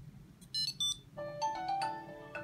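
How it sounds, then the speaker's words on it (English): A Tile Sport Bluetooth tracker ringing after being triggered from the phone app: a bright electronic melody of short tonal notes, fairly quiet and close, with no talking. "So now it's ringing this thing."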